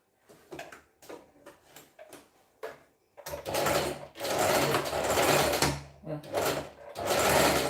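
A sewing machine stitches a hem in bursts, with a few short mechanical clicks followed by longer loud whirring runs, and a single brief spoken word at the start.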